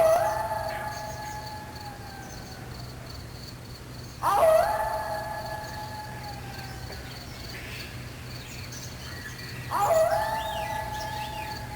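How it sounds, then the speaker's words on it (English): Coyote howling in the western desert, long rising-and-falling wails heard in three separate bouts, fairly close and clear over a faint steady background hum. "you might have heard the lonely howling of the coyote"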